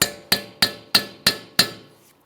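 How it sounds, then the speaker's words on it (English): A hammer strikes a chisel against a rusted, stuck snap ring on the front wheel hub of a 2006-2012 Ford Fusion, giving six sharp metallic taps at an even pace, each ringing briefly, close and loud with no talk. "If it's stuck in place, we'll just break it free with a hammer and chisel."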